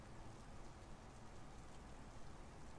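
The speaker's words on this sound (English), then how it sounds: "She's raining in Vancouver." Steady simulated rain falls in Microsoft Flight Simulator X over Vancouver, a dense continuous hiss of drops that stays even and unbroken with no talking.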